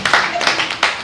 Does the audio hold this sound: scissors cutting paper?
no